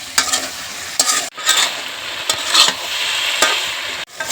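Taro stolons (kochur loti) being stir-fried in a pan, with steady loud sizzling broken by repeated scraping stirs of a spatula, close up and without any voices.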